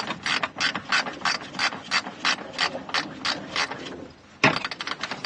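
A hand ratchet winds a very long bolt on a truck, a close, loud run of rhythmic clicking strokes that pauses briefly near the end, then resumes in a quicker burst.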